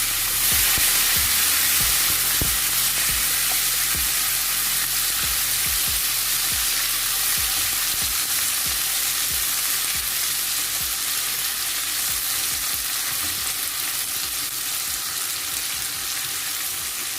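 Onion, tomato and bell pepper fry with chicken in a hot pan, a constant strong sizzle broken by regular sharp knocks and scrapes of a spoon against the pan.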